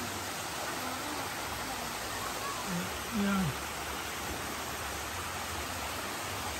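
Waterfall at Nagpana Falls in Barotac Viejo, Iloilo, heard as a constant broadband rush of falling water, with a person briefly speaking over it.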